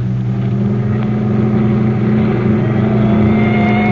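A dramatized car engine in an old-time radio crime chase drones and rises steadily, a loud sustained hum with whining overtones climbing in pitch toward the end.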